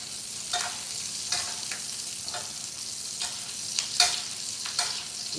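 Salmon sizzles steadily in a pan of butter and oil, a soft, continuous frying hiss punctuated by several sharp spatters and stirring scrapes.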